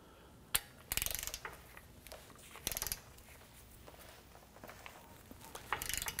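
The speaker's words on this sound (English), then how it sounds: "It's good to torque down our brake caliper bracket bolts to" Ratcheting clicks from a torque wrench tightening the front brake caliper bracket bolts on a 2011-2018 Ram 1500, heard as a few short close bursts of mechanical clatter with pauses between them and no talking.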